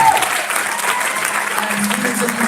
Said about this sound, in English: Please do give Mrs. Mealy and our students one more round of applause